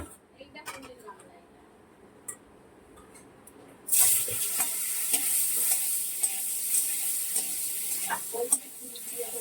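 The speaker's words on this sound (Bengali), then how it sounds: "কড়াতে বাটার দিয়েছি আর একটু রিফাইন তেল দিয়েছি, একটু পনিরগুলো হালকা করে ভেজে নেবো" Paneer fries in butter and refined oil in a hot wok. Some clatter comes first, then a loud hissing sizzle starts suddenly and holds steady, with voices talking over it.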